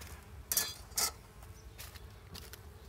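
Honeybees in a nuc beehive give a faint, low buzzing, with a few brief louder rustling bursts close by.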